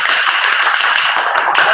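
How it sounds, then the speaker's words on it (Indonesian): A large studio audience of about 3,000 at a cooking-brand talk show claps together, a loud, steady wash of hands with a few sharper taps standing out. "Ya, kita berikan tepuk tangan ya"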